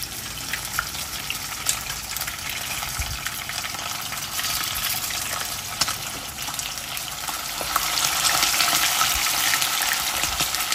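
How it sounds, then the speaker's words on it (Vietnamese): Steady, dense sizzling and crackling of small tuna frying in hot oil, continuous and fairly loud, growing a little stronger toward the end. "Chúng ta chiên trước tiên là cho cá vào để chiên các bạn nhé."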